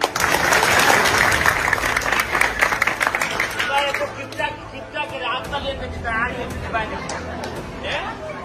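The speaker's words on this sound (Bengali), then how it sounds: "একটা হাততালি দিতাই না নি?" Crowd at a political speech in Chunarughat claps loudly and densely for a few seconds, then the applause thins and fades while voices talk over scattered claps.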